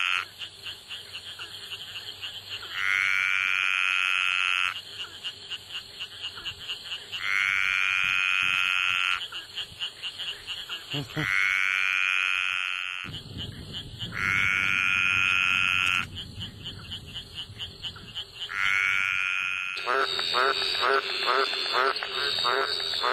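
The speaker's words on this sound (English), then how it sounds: "green tree frog calling" Loud, repeated green tree frog calls, rising nasal croaks in long bursts, close by, with quick rattling pulses and other frogs joining in, and no talking.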